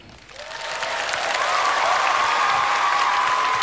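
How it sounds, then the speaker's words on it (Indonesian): Crowd applause at a political party anniversary speech in Indonesia, swelling quickly from quiet into a dense, sustained roar of many clapping hands that holds steady and loud to the end. "Tepuk tangannya kurang semangat."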